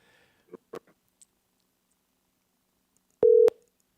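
A telephone line sounds while someone tries to call a podcast co-host: a few faint clicks, then a single loud, steady ring tone lasting about a quarter second, alone with no talk.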